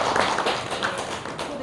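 An audience at a 2019 pediatric medical seminar claps to welcome the guest lecturer; a steady patter of hand claps runs throughout, with a voice talking over it.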